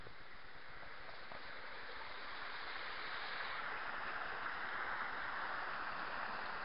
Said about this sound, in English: there's like proper waterfall underneath the bridge, which is pretty cool